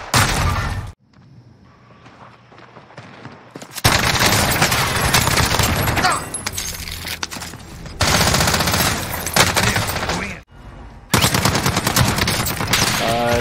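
Loud, close automatic gunfire in the video game Call of Duty: Warzone comes in long dense bursts separated by brief lulls, with rapid rattling shots and impacts filling most of the stretch.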